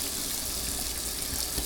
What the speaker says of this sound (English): Now scrub the sides. Really hard.